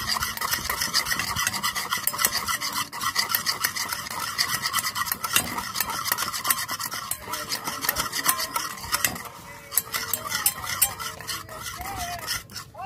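Food being mixed and coated by hand in a bowl, a continuous close rubbing, squelching and scraping texture with occasional clinks of a dish, steady and fairly loud without speech.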